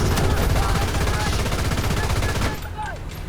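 Tank gunfire in the War Thunder video game rattles close and loud as rapid repeated bursts, then cuts off, leaving quieter game noise with a faint voice.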